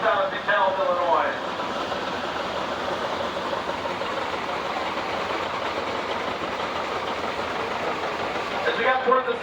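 Allis Chalmers WD 45 tractor in a steam show parade in DeKalb, Illinois, its engine running in a low steady rumble throughout with someone talking over it.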